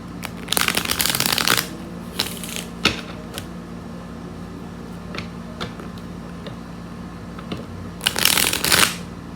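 Tarot-style cards being shuffled for a reading, with two bursts of riffling flutter at the start and end and a few soft taps and card slides between, close up and without any talk.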